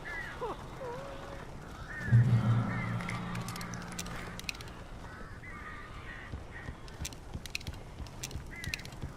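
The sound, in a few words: weird birds in Alan Wake video game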